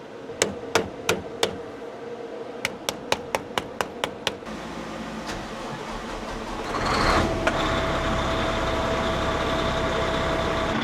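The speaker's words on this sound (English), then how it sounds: "But maybe if I just tap on the bottom of it a little bit." Sharp taps ring out on the bottom of a fluid reservoir, first a quick burst of four, then a faster run of about eight, followed by duller knocks and a rising mechanical rush.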